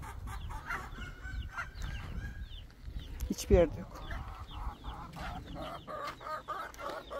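Broody hens and other chickens clucking and chirping in a yard, steady overlapping calls at moderate distance, with a person speaking briefly over them.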